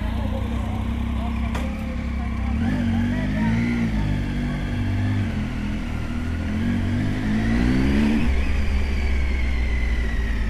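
Triumph Tiger 800 XRX adventure motorcycle pulling away and accelerating, its engine note rising and falling through gear changes as a loud, close rumble that swells again toward the end.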